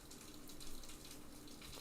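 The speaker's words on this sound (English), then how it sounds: "That's the rain coming off the roof." Rainwater runs off a roof outdoors, heard indoors as a faint, steady trickle and splash with a gentle swell in the middle.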